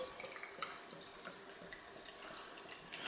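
Greene King Ruddles Best English Ale is poured from a bottle into a glass, giving quiet, uneven splashing and trickling with small drips and gurgles throughout.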